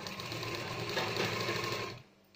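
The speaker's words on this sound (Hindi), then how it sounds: "सेंटर में हम एक रफ सिलाई लगाएंगे" A sewing machine runs steadily for about two seconds, putting a rough tacking stitch along the centre of a boat-neck garment, with a fast even whir before it stops into near silence.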